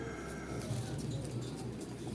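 Pigeons at a pigeon farm coo softly and repeatedly against a steady background hum, with a few faint chirps mixed in and no voices.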